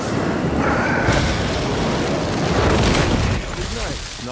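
Explosions from the superhero tactics video game Marvel's Midnight Suns, a loud broadband boom sustained under game effects, with a second burst near the end before a dip in level.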